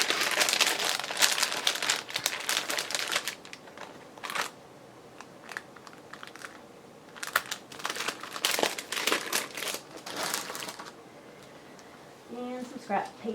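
Scrap paper is crumpled and crinkled by hand, close and loud, in bursts of rustling with quiet pauses, while a person speaks at times.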